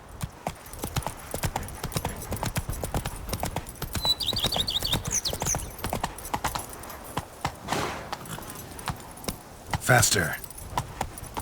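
Roach the horse's hooves beating in a quick regular rhythm in The Witcher 3, tack jangling along, with a brief voice urging the horse on and a loud snort or whinny near the end.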